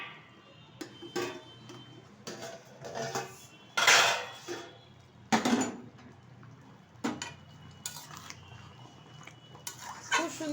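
A lid lifted off a pot of chilli chicken cooking on medium-low heat, followed by a series of sharp metallic clatters and clanks of pot and utensils at irregular intervals, close and loud against a quiet background.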